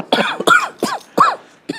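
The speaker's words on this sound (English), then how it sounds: "you are coughing on a tequila" A person coughing hard after a swallow of tequila at a poker table, about five sharp, close, raspy coughs in an uneven burst with short gaps between them.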